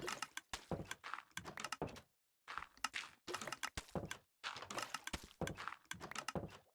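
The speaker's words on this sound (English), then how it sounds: "And yes, the door bangs every time." A door banging repeatedly in a Minecraft redstone farm: fast clusters of hollow thunks and clacks in an irregular rhythm with brief pauses, fairly quiet and close.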